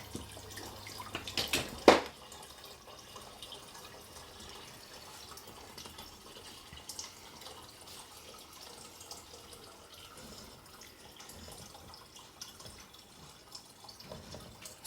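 Water trickles and splashes steadily as it is siphoned out of a home aquarium during cleaning, with a brief louder splash near the start and a continuous gentle flow after that, no talking.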